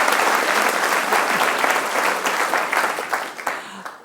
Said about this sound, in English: can we give Penny a round of applause